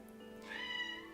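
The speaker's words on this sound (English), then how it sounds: "That was a cat." A single short cat meow, faint and somewhat distant, rises and falls over a quiet room hum.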